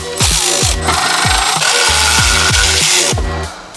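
A brake caliper bolt comes out under an impact wrench, producing loud, close, rapid hammering bursts with a sharp rattling pulse that runs almost continuously for a few seconds before stopping.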